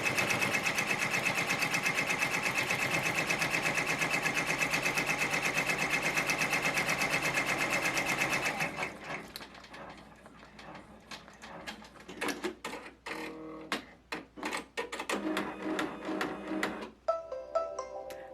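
A sewing machine stitches through a fabric Easter mug rug with batting, a steady loud whirring run for about eight seconds, then stops and gives way to scattered clicks and handling noises.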